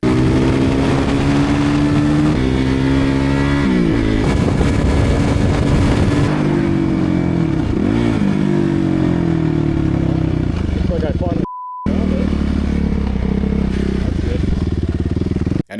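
Suzuki RMX450Z dual sport motorcycle engine revving loud and close as it rides and shifts through gears, pitch climbing and dropping, with a brief cut near the end and some voice mixed in.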